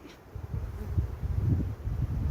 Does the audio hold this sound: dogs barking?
no